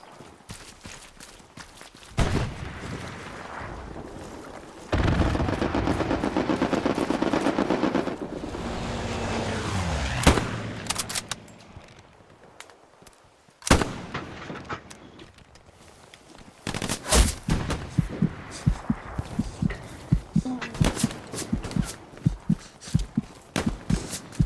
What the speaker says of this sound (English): I just heard shots from behind me.